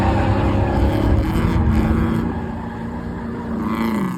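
A Ford Mustang being drifted, its engine a loud, steady drone with harmonics holding level and then gliding upward near the end, recorded close from inside the car with no one speaking.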